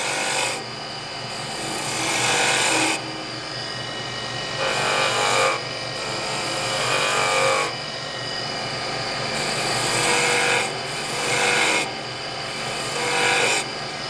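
A skew chisel cuts wood on a lathe in repeated scraping, hissing passes a couple of seconds long, separated by the lathe's lower running hum.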